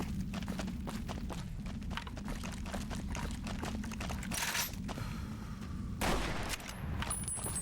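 Rapid gunfire in Fallout New Vegas, a dense string of loud shots rattling for several seconds, followed by a couple of separate blasts with other game noise underneath.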